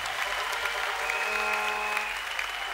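Congregation clapping at a church healing and deliverance service, a steady wash of applause with musical tones running underneath throughout.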